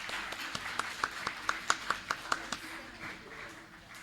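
Applause at a leadership summit: a short burst of sharp, distinct hand claps from a small group, a dozen or so in a quick uneven rhythm, fading into room murmur.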